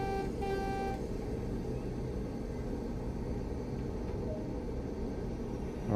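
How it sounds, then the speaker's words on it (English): Horn of a Class 09 diesel shunting locomotive in the Train Sim World game on the West Somerset line, a sustained tonal blast near the start over a steady low engine rumble that continues alone afterward. "Increase the throttle and sound the horn."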